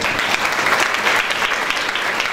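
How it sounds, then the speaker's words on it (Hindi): Church congregation at an Easter sermon applauding, a dense, steady roar of many hands clapping together, loud and continuous throughout with no talk over it. "आज हम तालियां बजाएं।"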